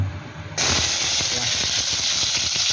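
Garlic hits hot oil in a pan for fish adobo with bitter gourd, bursting into a sudden loud hiss after a brief quiet start and then sizzling steadily.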